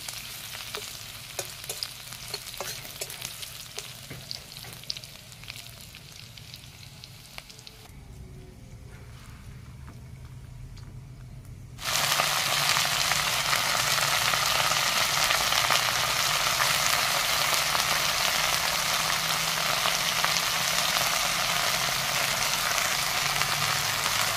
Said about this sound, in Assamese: এইখিনি অকণমান ৰঙচুৱা হোৱালৈকে ভাজিম